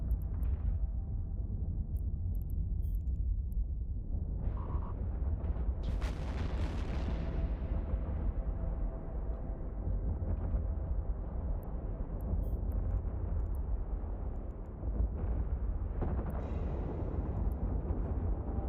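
Heavy missiles exploding in the space game EVE Online, a dense run of rumbling booms and blasts under a continuous low roar, loud and sustained throughout with no talk.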